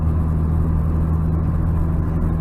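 A 1992 Honda Prelude cruises at about 50 with its engine running smoothly, heard from inside the car as a steady low hum and road rumble with no talking.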